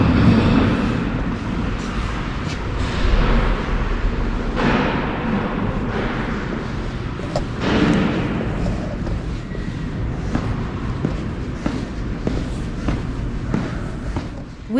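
A Montreal Metro train ride, with a loud, close rumble of rubber-tyred cars rolling and clattering, bursts of rattling and squeals, and a continuous low roar of the car interior throughout.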